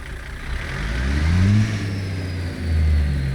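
A heavy truck engine in American Truck Simulator, heard from outside the cab, runs at idle with a low throbbing drone that swells and eases twice, a faint turbo whine riding above, no talk.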